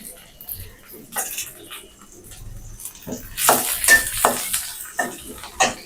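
Onions and chillies fry in a pan, with bursts of sizzling and scraping stirring that grow busier toward the end, heard close and under a person talking.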